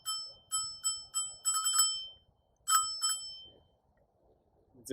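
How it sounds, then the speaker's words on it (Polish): A bright, metallic Ninebot electric scooter handlebar bell rings in quick repeated dings, a burst of rapid strikes, then a second short flurry after a pause; loud and close, no talk. "Oczywiście wyświetlacz, dzwonek, który jest naprawdę głośny."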